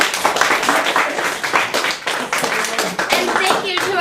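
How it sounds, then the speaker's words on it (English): A studio audience claps for guests on a show, a short round of close, distinct hand claps in an uneven patter, with voices also heard. "Please give them a round of applause."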